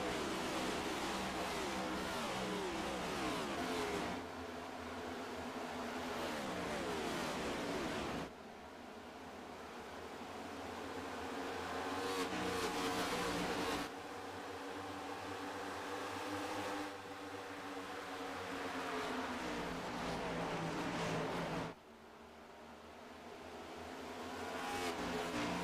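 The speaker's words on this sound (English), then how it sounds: "Gotta love the sound of the thundering engines here at Charlotte Motor Speedway with the NASCAR Cup cars" NASCAR Cup cars racing at Charlotte Motor Speedway in the iRacing sim during the Coca-Cola 600, a steady loud engine roar that swells and drops as cars pass in repeated sweeps, with no talking.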